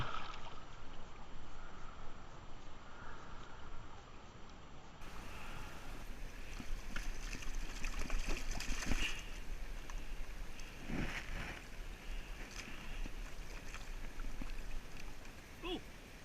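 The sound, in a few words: gold panning, swirling gravel and water in a pan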